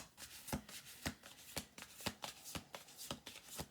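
A deck of oil-painting-style oracle cards being shuffled by hand, a steady run of crisp riffling bursts repeating about twice a second, close and clear with no talking.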